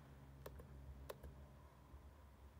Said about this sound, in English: I'm just typing random things right now.